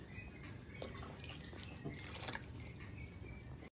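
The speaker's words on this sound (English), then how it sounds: "Then we put in the bath water," Water poured into a pot of eggs for onsen tamago in a home kitchen, a faint, continuous trickling and splashing with occasional drips.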